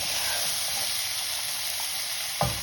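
Masala powder and fresh green peas fry on high heat in a pan, giving a steady, close sizzle and hiss throughout, with a brief stir or scrape near the end.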